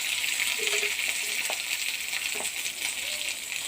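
Washed sorghum grains fry in a little oil in a hot pan as an evening snack, giving a continuous bright crackling sizzle with a few faint pops and clicks, close and unbroken.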